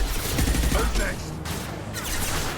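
Combat gunfire in Mass Effect 2 Legendary Edition, dense bursts of weapon fire and impacts rattling loudly under shouted character voices.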